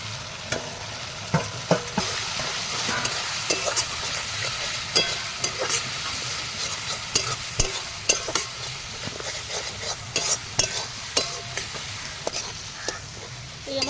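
Spices fry in oil for a river fish curry while being stirred, with a steady sizzle punctuated by repeated scraping and clinking of a spoon against the pan, close and busy.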